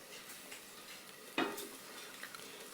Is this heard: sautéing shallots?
yes